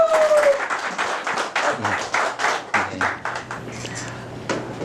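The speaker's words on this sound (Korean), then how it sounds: "투어컴의 대표이사 박배균 대표님 큰 박수로 모시겠습니다" Audience applause welcoming a speaker on stage at a lecture show, a dense wash of clapping over several seconds with a few distinct claps standing out and a voice briefly audible underneath.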